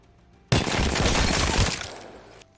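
A sustained two-second burst of automatic weapon fire in Apex Legends, rapid shots blurring into a dense, loud roar that cuts off abruptly.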